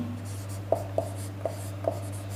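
Chalk or marker writing on a board during a physics lecture on electric charge, four short sharp taps spaced about half a second apart over a steady low room hum.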